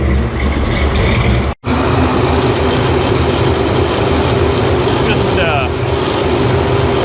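Supercharged engine idling rich while warming up, a loud, steady low rumble close by with a brief dropout partway through, and a voice speaking over it.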